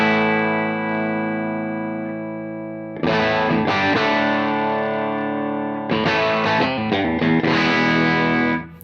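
Electric guitar played through a UAFX Lion '68 Super Lead amp pedal, a long sustained distorted chord ringing out, then two bursts of quick driven chord stabs, loud and close with no talking.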